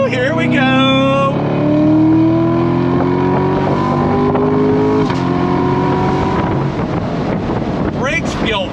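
A C7 Corvette Grand Sport V8 driving with the top down, revving up through rising gear pulls with a brief shift in between, loud and close with heavy wind buffeting over the engine note.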